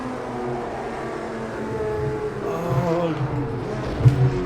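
A 512 race car in Project CARS 2 at a Spirit of Le Mans event accelerates out of slow corners, its engine a steady, rising drone with layered harmonic tones that swell toward the end.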